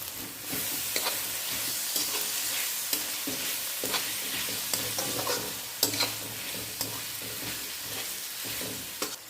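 Tomatoes stirred into a frying pan of ginger-garlic paste for Kolhapuri mutton, with steady close sizzling and repeated scraping stir strokes throughout, no voices.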